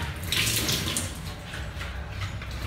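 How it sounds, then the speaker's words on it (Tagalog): Water runs steadily from a long faucet, a continuous hissing splash with no voices, fairly close and even throughout. "Ano ba itong gripo nila?"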